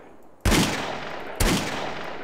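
Two sharp gunshots ring out about a second apart, loud and close, each leaving a lingering echo, while shooting zombies in GTA San Andreas Multiplayer.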